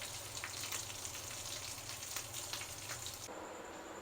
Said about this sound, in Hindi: इनको निकाल लेते हैं और बाकियों को भी हम इसी तरह से फ्राई कर लेंगे